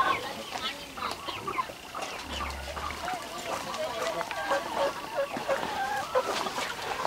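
Chickens, including native breeds, cluck and call steadily around a farm yard, a busy overlapping chorus with occasional talk underneath.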